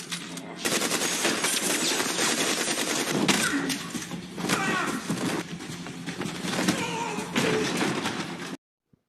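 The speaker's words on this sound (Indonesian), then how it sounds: "akhirnya terjadilah aksi tembak-menembak" Sustained gunfire from a film shootout, rapid bursts of automatic shots and loud cracks rattling almost continuously for over eight seconds, dense and close, before cutting off abruptly.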